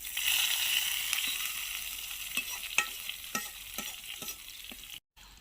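Chopped onion sizzles steadily in a pan on a rural Bengali cooking setup, with a series of sharp scraping stirs cutting through the continuous frying hiss, close and alone.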